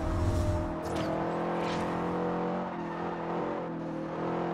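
A Lamborghini Diablo racing car's engine in Forza Horizon drones steadily at high revs, loud and close, with no talk over it.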